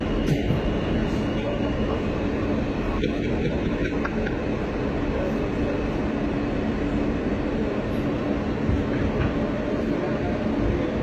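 New York City subway train riding, a steady loud rumbling and rattling of the car in motion with faint squeaks, continuous throughout.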